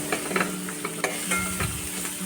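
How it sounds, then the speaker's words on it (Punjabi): Chopped onions fry in a pan with half-roasted malai kaddu (creamy pumpkin curry) ingredients, giving a steady soft sizzle broken by a string of light scraping and tapping stirs, close and alone with no voices. "ਪਿਆਜ਼ ਪਾ ਕੇ ਆਪਾਂ ਨੂੰ ਇਹਨਾਂ ਨੂੰ ਵੀ ਭੁੰਨ ਲੈਨੇ ਆ"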